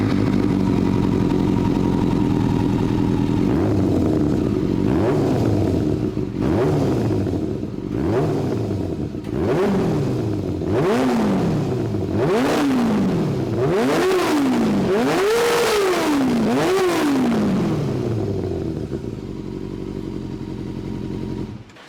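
A first-generation Yamaha R6 sport bike with a stock Yoshimura exhaust revs repeatedly, each blip climbing and falling in a steady series of about eight loud, close throttle bursts over a constant idle, with no talking.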